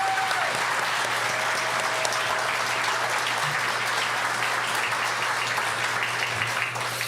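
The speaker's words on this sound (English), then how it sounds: "Let's give her a round of applause" Steady audience applause fills a Steve Albini gathering event hall, a dense, even wash of many hands clapping at constant loudness throughout, with a faint tonal hum beneath and no clear voices.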